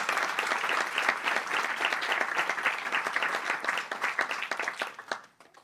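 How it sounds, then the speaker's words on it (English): An audience at a national birthday celebration event breaks into steady applause that carries on for several seconds, then fades out into scattered claps. "Can we please give them all a big round of applause?"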